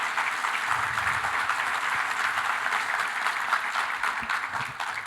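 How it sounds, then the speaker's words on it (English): Audience applause at a nuclear energy summit fireside chat, a dense, steady wash of clapping from a large crowd that holds at an even level throughout. "I'm going to ask that y'all keep that applause going"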